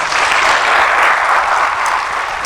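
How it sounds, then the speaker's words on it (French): Studio audience clapping steadily on a French café talk show, a dense, even burst of applause lasting a couple of seconds with no voices on top. "on va vous applaudir"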